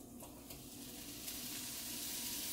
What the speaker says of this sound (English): So I'm gonna do my steak first as usual.